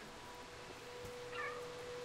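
A single short cat meow in the video game Stray, faint and high, sounds once over a quiet background hum.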